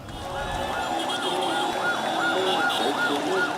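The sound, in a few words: siren near Dhaka Medical College Hospital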